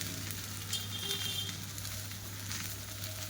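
Okra (bhindi) stir-frying in a pan, a faint, even sizzle and crackle beneath a low steady hum, with no talking.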